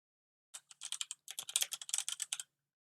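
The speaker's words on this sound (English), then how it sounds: "I think I'm just trying to type way too fast for my own good" Rapid typing on a computer keyboard, a fast irregular burst of close, crisp key clicks lasting about two seconds after a brief quiet start, with no voices.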